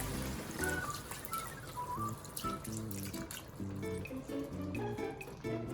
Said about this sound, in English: Now it's time to add the beef broth, and you're going to do about a half container.